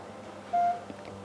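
A short electronic tone from a U&i UiSW 6660 smartwatch signals an incoming message, a single clear beep of about a quarter second standing out over quiet background hum.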